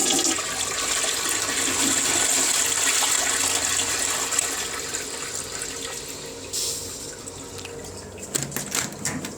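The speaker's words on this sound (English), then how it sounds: "this flushometer is leaking over here too" A leaking flushometer in a truck stop restroom lets water run in a continuous loud hiss. The flow eases partway through and a few clattering knocks follow near the end.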